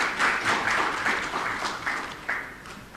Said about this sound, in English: Please welcome Dr. Evans Otieku with a round of applause.